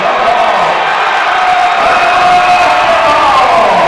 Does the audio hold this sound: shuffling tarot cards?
no